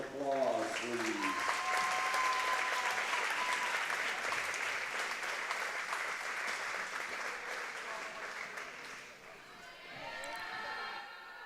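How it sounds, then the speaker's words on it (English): Crowd applause and cheering in a gym after a high school volleyball regional final between Southeastern and Triopia; a loud, sustained roar of clapping that slowly fades, with an announcer's voice heard at the start and end. "We can give both teams one big round of applause, please."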